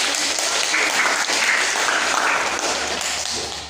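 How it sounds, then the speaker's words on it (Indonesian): Sustained applause from a classroom audience fills the whole stretch, loud and even, a dense crowd of clapping hands with no pauses. "Iya, betul sekali. Aplaus."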